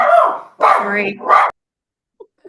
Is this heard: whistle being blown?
no